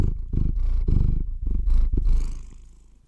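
A cat purrs close up in rhythmic, rumbling pulses, each breath cycle a distinct burst, fading toward the end.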